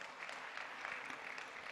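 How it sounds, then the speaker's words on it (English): Audience applause at a sustainable development solutions forum in Malaysia, a steady, fairly faint wash of many hands clapping with no talk over it. "Please give him a round of applause."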